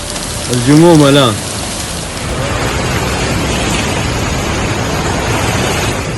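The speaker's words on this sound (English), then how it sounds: "the wind drove the rain horizontally" Heavy rain lashing down in a violent storm with hail and strong wind in the Saudi Arabian desert, a steady loud broadband roar throughout, with a brief tonal voice-like sound near the start.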